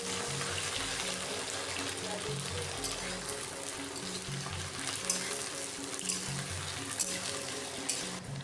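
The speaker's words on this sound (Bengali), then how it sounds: "কড়াই গরম হয়ে গেলে তাতে তেল দিয়ে ঢ্যাঁড়সগুলো ভেজে নেব" Okra fries in hot mustard oil in a wok, making a continuous close sizzle with light stirring clatter throughout.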